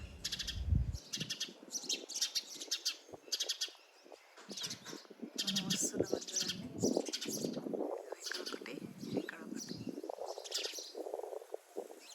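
Small finch chicks chirp and tweet in quick, high bursts close by from a nest in an air-conditioner pipe hole in a wall, with quieter stretches between calls and soft background noise.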